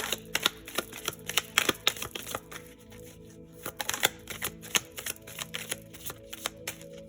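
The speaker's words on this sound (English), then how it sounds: "One more shuffle." A deck of oracle cards being shuffled by hand, with bursts of crisp riffling and flicking clicks in irregular clusters, close and fairly loud, with no talking.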